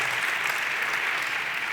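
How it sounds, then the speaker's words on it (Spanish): An audience at a tech conference talk applauds volunteers, a steady, even wash of many hands clapping throughout with no gaps. "Un aplauso mientras para los voluntarios que están corriendo"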